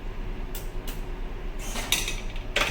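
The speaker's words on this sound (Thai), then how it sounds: "ครับนี้ปากกาหล่นมาแล้วแล้วก็หยิบปากกามาใช้" An automatic pen vending machine releases a pen, giving a few light mechanical clicks followed by a short plastic clatter as the pen drops out, heard close against a steady hum.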